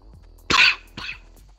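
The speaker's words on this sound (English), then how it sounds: "I've been coughing this shit up." Two close, harsh coughs from a person with a cold, a strong one followed a half-second later by a shorter, weaker one, with no talking.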